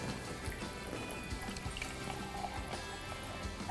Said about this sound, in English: Now that's roughly mixed, I'm going to add my water. Now I have got sparkling water,